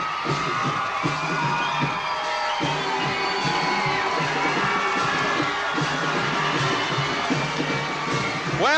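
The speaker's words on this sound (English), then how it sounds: "we've got a pretty excited crowd here at Alperon Park on this side of the field" An excited crowd at an Alperon Park football game, the 1993 Old Shoe Game, cheers and whoops continuously from the stands, a dense roar of voices with scattered shouts, heard from a distance.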